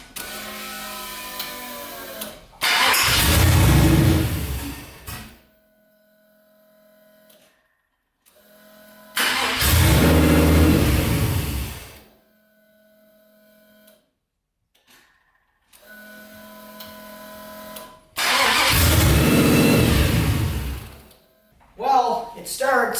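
A turbocharged LS V8 swapped into a Ford Ranger cranks and fires three separate times, each loud, close burst roaring for about two to three seconds before cutting out into near silence.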